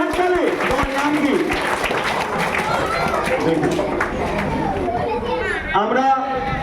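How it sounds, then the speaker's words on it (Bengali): Children at a municipal magic show clap in a busy burst mixed with chatter and an adult voice talking over them, the crowd noise staying lively throughout. "জোরে হাত তালি"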